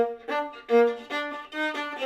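A viola plays the opening two measures of the Irish tune Rakes of Mallow, a short string of separately bowed notes with clear pitch changes and moderate, even loudness.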